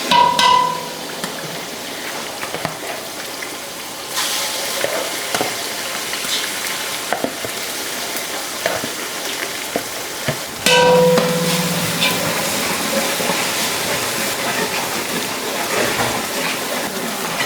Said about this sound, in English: You are going to fry this until the pepper no longer looks red.